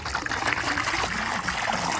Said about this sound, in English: what you're gonna wanna do is try to pour this around the deep end